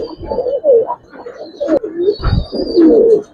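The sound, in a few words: Giribaz and coloured pigeons cooing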